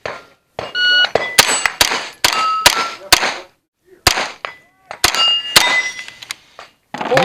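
Rimfire rounds striking steel targets at a Steel Challenge competition stage produce a rapid, irregular series of sharp metallic clangs with short ringing tails, loud and close, separated by brief pauses.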